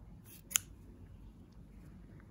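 Scissors cut crochet yarn while a flower bucket hat is being finished: one quick, crisp snip stands alone against a quiet room.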